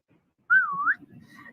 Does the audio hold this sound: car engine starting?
no